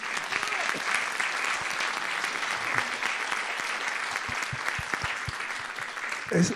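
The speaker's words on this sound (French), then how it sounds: "Denis Bobial, on peut l'applaudir" Audience applause breaks out on a French talk show for the co-creator of the game Motus, a steady wash of clapping from a crowd, moderately distant, with a voice briefly surfacing near the end.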